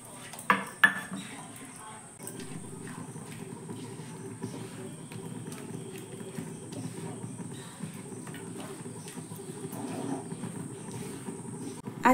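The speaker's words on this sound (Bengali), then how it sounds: "অল্প অল্প করে দিয়ে কিন্তু এইভাবে জলের সঙ্গে মিশিয়ে নিতে হবে একটা খুন্তির সাহায্যে বা প্যাচুলার সাহায্যে" Semolina is stirred into water with a spatula in a home kitchen, giving soft continuous scraping and light clinks against the pot, with a couple of sharper knocks near the start.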